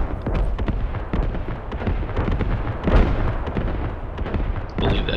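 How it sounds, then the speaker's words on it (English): Friendly artillery pounds the battlefield in the military shooter Squad, a steady barrage of heavy booms and crackling blasts rolling on without a break, loud and fairly close, with almost no talking. "I believe that is friendly artillery."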